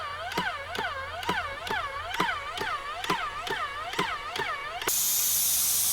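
A Titan 1140 airless sprayer loaded with thick elastomeric paint for stucco pulses in a rapid, even rhythm of chirping strokes, then bursts into a loud, continuous spray hiss.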